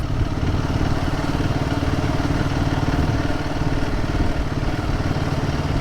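A Royal Enfield Guerrilla 450 motorcycle engine running steadily under power, a loud continuous rumbling drone heard close up with wind noise and no talk.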